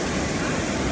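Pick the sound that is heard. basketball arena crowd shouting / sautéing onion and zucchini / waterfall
waterfall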